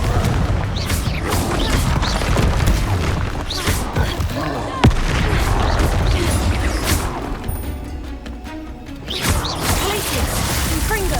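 Fiery Confringo spell blasts in Hogwarts Legacy burst and crackle in a dense, loud stream of crashes and booms, with a sharp impact near the middle and ongoing battle clatter.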